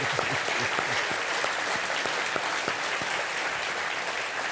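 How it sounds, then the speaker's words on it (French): An audience claps steadily throughout, a dense, sustained round of applause with no voices over it. "Vous pouvez vous applaudir, hein"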